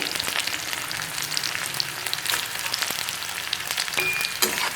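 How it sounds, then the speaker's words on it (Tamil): Gooseberry curry sautés in a pan, a dense continuous sizzle with crackling spatters and a few soft stirring scrapes, close and fairly loud throughout. "நல்லா வதக்கிக்கலாம்."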